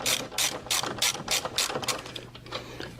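Ratchet loosening bolts in the engine bay of a BMW 440i with a B58 engine, a rapid series of about nine sharp metallic clicking bursts, close and loud, with no talk.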